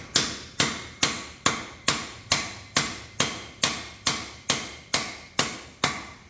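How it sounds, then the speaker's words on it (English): A hammer strikes the metallic core of an exhaust muffler on an RB30 turbo car in a steady series of about a dozen loud, ringing metallic blows, evenly spaced roughly half a second apart. "You want a bigger hammer?"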